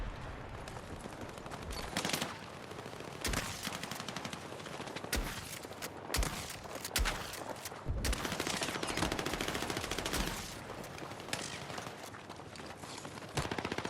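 Rapid automatic gunfire from an MP7 submachine gun and heavy shotgun blasts in the Battlefield 6 beta, Domination mode, loud bursts and single booms crowding together with near-constant battle noise throughout.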